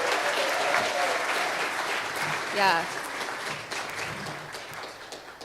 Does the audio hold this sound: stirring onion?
no